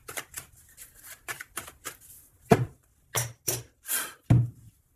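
A deck of oracle cards being cut and shuffled up close, giving a series of quick riffling bursts and soft taps in uneven rhythm, with no talking.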